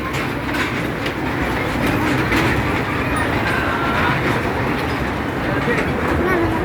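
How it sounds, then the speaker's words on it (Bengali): A train passes close by in a rural area, a steady broadband rumble with faint clatter running loud and unbroken throughout, while people talk over it. "এই যে পাশে ট্রেন যাচ্ছে।"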